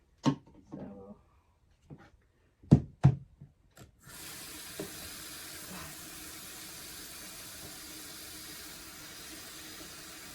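Tap water starts running after a few knocks and clatters, then flows as a steady, even hiss into a sink, close by; brief handling noises come before the stream.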